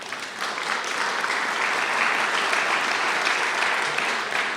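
Audience at a county address breaks into steady applause, a dense wash of clapping that swells and holds for several seconds with no one speaking.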